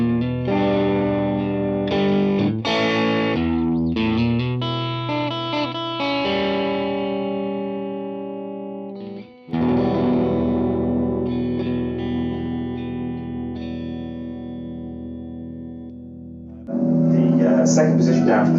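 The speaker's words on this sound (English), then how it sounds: "Position 3, middle pickup on its own" Fender Stratocaster played through its middle pickup alone with a dark, warm tone, sounding as strummed chords and single notes with sustained ringing and effects coloring, close and clear, with a short pause partway through.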